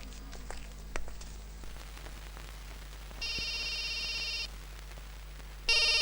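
An electronic telephone ringtone trills in a Telugu movie scene, one sustained burst and then a second starting, loud against a low room hum with a few faint knocks earlier.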